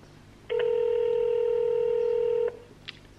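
A single telephone call tone on a landline, a steady two-second electronic beep with harmonics standing out loud and alone over faint background hiss, followed by a brief click.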